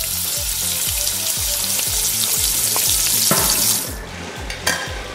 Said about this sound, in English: once you put it in, it's going to splatter like a mother